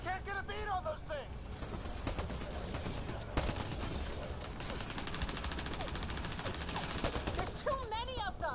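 Dense, continuous video game gunfire, rapid volleys and bursts, loud and sustained, with voices shouting over the shooting.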